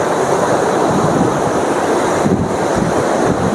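Water churning below the Tungabhadra dam makes a steady, loud broadband rush with wind buffeting the microphone throughout, and no voices are heard.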